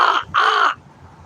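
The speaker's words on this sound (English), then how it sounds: "Look, there's one of my crow buddies." A crow gives two loud, harsh caws close by, the second slightly longer, followed by quiet background.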